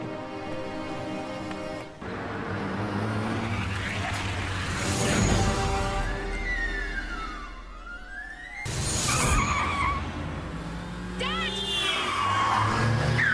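A car skids with a tire squeal during a dramatic TV episode scene, with a swooping engine tone and a loud crash-like burst near the middle, mixed with background music and occasional voices.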